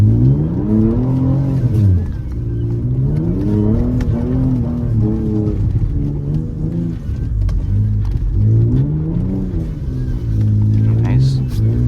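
Twin-turbo Ford Taurus SHO engine revs hard and loud, rising and falling repeatedly while the car drifts in snow with traction control disabled, a rough throaty drone filling the clip as a person talks over it.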